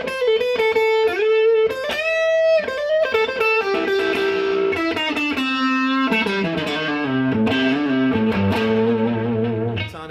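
Electric guitar with heavy distortion playing a minor pentatonic blues lick: sustained bends and quick phrases that step down into lower notes, loud and continuous, alone without talk.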